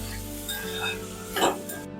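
Red chili, green chilies and coriander stirred in a pan for daliya, a steady close sizzle with soft scraping and a louder stir near the end, without talk.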